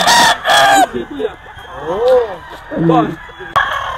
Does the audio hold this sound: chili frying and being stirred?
no